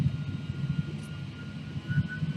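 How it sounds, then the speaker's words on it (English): Airliner jet engines on a flight from Detroit to Raleigh-Durham give a steady low roar through the cabin during the climb, with a faint rise in the second half. "You can hear the engines spool up again as we continue our climb."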